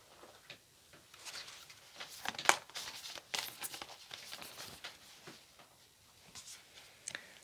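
Moonology oracle cards are shuffled close by, with faint, scattered papery flicks and soft taps in loose bursts and a few sharper snaps.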